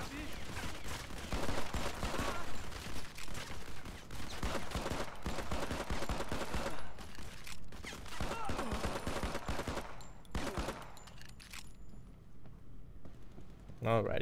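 Gunfire in the mobile shooter Modern Combat 5: Blackout, with continuous bursts of rapid shots and impacts in a dense, busy mix that thins out near the end.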